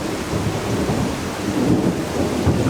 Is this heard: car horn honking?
no